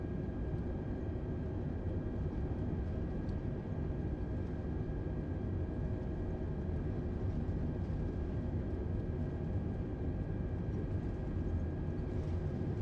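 Delta airliner engines spooling up to takeoff thrust on a flight from Charlotte to Fort Wayne, a steady broadband cabin roar with a faint whine, constant and loud throughout.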